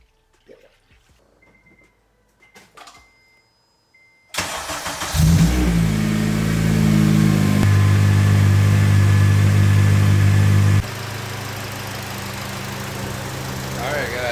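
An Acura TSX, just repaired after a new power steering rack, cranks and fires up, then revs loudly and steadily before dropping to a lower idle, heard close and alone.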